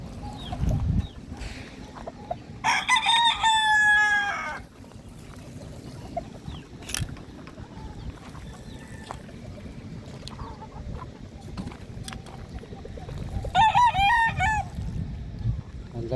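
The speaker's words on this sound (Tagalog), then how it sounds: "ayun ang manukan natin" At a backyard chicken coop, a rooster crows twice, loud and near, while hens cluck and rustle underneath, with faint background voices between calls.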